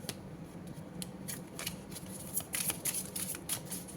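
Tarot cards being shuffled and drawn by hand, with crisp papery riffles and flicks in short bursts that come faster toward the end, close and fairly quiet, no talking.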